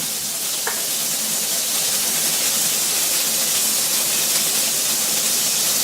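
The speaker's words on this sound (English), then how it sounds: "This is not the most ideal pan for sauteing vegetables because of the ridges." Vegetables sauteing in a ridged pan give a steady, loud sizzle and hiss that runs unbroken from start to finish. No one speaks over it.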